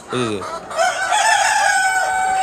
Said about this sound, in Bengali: এই দেখেন শব্দ করে কক কক কক কক মোরগ